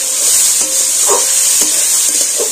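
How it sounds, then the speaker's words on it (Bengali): Thinly sliced potatoes hiss loudly in hot oil in a pan, a steady close sizzle with a few soft stirring knocks breaking through. "এবার আলুগুলো দিয়ে দিচ্ছি। এটাকে আমি একটু নাড়াচাড়া করে ভেজে নেব।"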